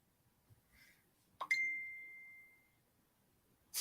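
A single bright phone notification ding rings out in a quiet room, a sharp onset followed by a clean sustained tone that fades over about a second; a soft clink comes just before it.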